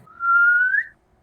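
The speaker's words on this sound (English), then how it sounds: "can Victor make a distant whistle noise from the distance? Like some sort of a signal" A single whistle sounds as a signal, one steady tone held for under a second and rising slightly at the end, clean and alone against near silence.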